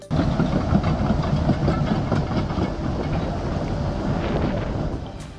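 Construction truck engine running under load, a dense, loud continuous rumble with a rattling mechanical texture, steady from start to finish with no voices.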